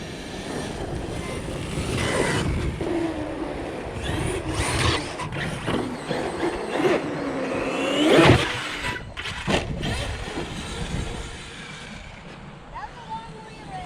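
Arrma Outcast 8S RC car driving: a high whining electric motor surge that rises and falls as it accelerates and pulls away, with tire and gravel noise, while someone talks over it.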